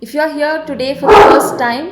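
A dog barks and yips once amid a person talking, the short bark loud and close over the ongoing voice.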